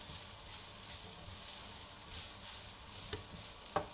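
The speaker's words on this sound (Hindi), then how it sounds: "बस तेज़ आंच पे आपने इसे जल्दी जल्दी चम्मच चला मैं" Beef chilli stir-fried quickly with a spoon over high heat, a steady moderate sizzle with a couple of sharp spoon knocks against the pan near the end.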